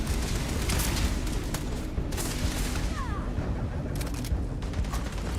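Rifle fire in a video game, dense bursts of shots and booms layered over a constant roar of battle noise, with sharp cracks clustering near the start and again toward the end.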